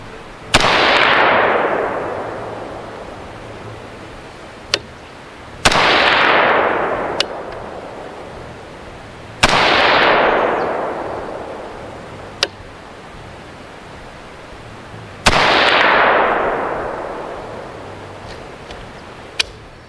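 A KE Arms drop-in trigger in an AR-15 is dry-fired four times, each pull giving a sharp, loud snap that rings briefly. A softer, distinct click follows each snap a few seconds later, all up close.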